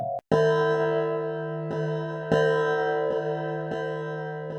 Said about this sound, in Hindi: उसने धीरे से वो घड़ी की घंटी बजती हुई सुनी।